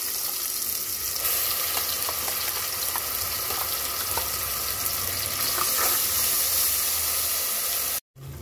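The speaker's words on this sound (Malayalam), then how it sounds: "അതുകൊണ്ട് കുറച്ച് നേരം ഒന്ന് ഇതൊന്ന് വാട്ടിയെടുക്കണം" Ground masala paste with garlic sizzles steadily in hot oil for pudina rice, a close, continuous frying hiss with occasional stirring scrapes, then a sudden brief cut near the end.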